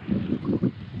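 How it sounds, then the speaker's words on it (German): A gusty wind in Morocco buffets the microphone during a bicycle journey, a low, rumbling roar rising and falling in quick pulses for about a second. "der Wind, der wirbelt hier alles auf"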